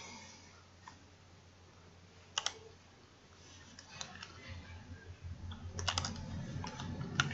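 Someone clicks a computer mouse and types on a keyboard while working in engineering design software. A few scattered, close clicks give way to a steadier patter of keystrokes that grows busier toward the end, with no voices.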